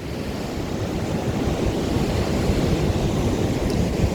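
High surf of about 1.5 to 2 metres rolling onto the shore at the lower Wangpi River near Uljin, a constant loud roar of breaking waves with wind noise and no voices.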